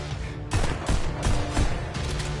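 Rapid bursts of gunfire from the virtual reality shooting game Pistol Whip, with shots landing in a steady, loud rhythm timed to music and backed by a continuous musical bed.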